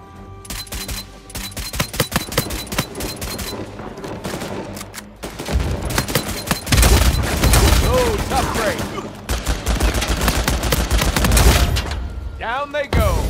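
Rapid bursts of automatic gunfire and single shots crackle in a video game firefight, loud and near, with heavy booms and chaotic combat noise building through the middle and a short lull before it resumes.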